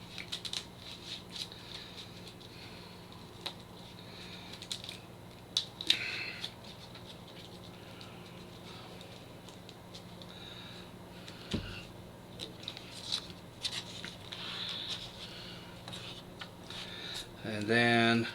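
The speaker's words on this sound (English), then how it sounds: "Shuffle them real quick." Playing cards being shuffled by hand at a tabletop during setup of a Legendary-style card game, soft riffling and shuffling rustles with occasional taps, fairly quiet and close.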